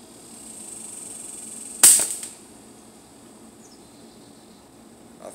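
A single sharp crack from a Hatsan Tactdriver air rifle fired at a highline wire, loud and close, with a short decaying tail, then quiet with a faint later tick.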